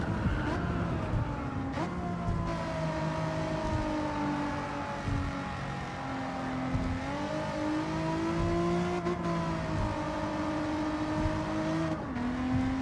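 Renault Clio V6 24v racing engine in Gran Turismo 7 at Tokyo, a loud continuous drone that climbs and dips with gear changes and throttle, with someone talking over it at times.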